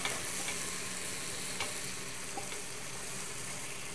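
Onions frying in hot pork lard, a steady dense sizzle holding across the clip with a few faint clicks and stirring touches, fairly close and with no voices.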